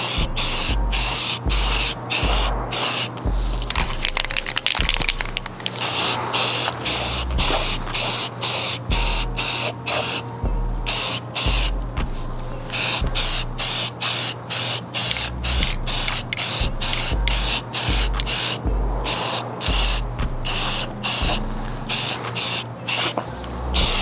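A Rust-Oleum spray paint can coating a rifle gives a close, steady run of short hissing bursts, each spray pulse separated by brief pauses, with no talking.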